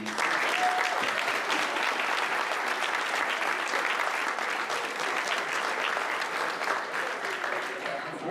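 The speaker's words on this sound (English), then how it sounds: "give everybody a round of applause" Sustained audience applause at a university design challenge showcase, steady and fairly loud for the full stretch with no talk over it.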